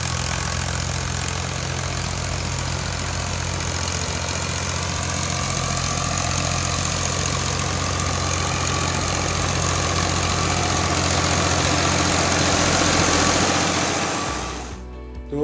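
A tractor drives a rotavator through field soil, tilling ground for sowing berseem: a steady, loud engine drone with low mechanical churning holds throughout, then briefly drops and clatters near the end.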